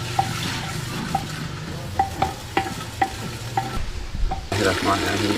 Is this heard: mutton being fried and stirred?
yes